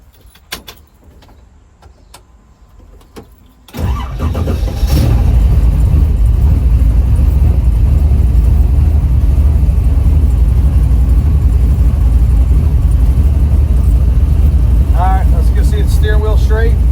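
Engine of a 1967 Camaro cranking and catching after a door thump, then settling into a loud, deep, steady idle rumble close by, with a few faint higher squeaks near the end.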